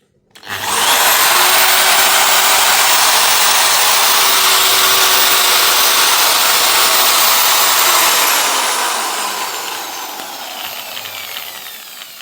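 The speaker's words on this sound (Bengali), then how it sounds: "চলুন আমরা এই 2000 ওয়াট থেকে ড্রিল মেশিন চলে কিনা একটু ট্রাই করে দেখি" An electric drill machine spins up running on power from a 2000-watt IPS battery inverter, a loud close whine that holds steady for several seconds, then winds down and fades.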